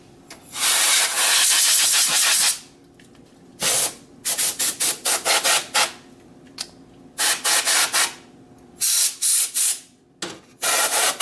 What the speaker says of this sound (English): take some compressed air